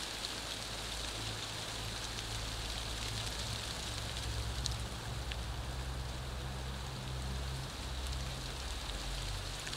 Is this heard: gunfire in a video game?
no